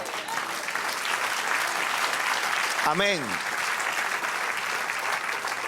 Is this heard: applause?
yes